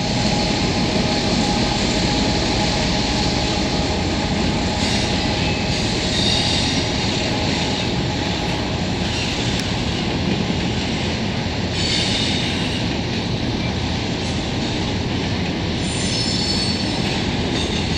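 CN freight trains roll through a Montreal rail yard, a loud continuous rumble of wheels and cars with sharp high squeals of wheels on rails rising now and then, close by and without talk.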